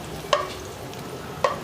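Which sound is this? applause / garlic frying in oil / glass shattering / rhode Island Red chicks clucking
garlic frying in oil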